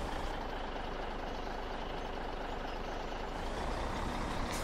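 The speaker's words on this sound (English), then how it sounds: "So this truck actually has a pup trailer with it as well." A truck pulling a pup trailer in Farming Simulator 17 drones steadily, its engine making a constant, even rumble. A thin, high tone runs along above it.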